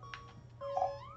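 A game cat in Omori meows once, a short tonal mewing call near the end after faint clicky game sounds, quiet and alone without talk.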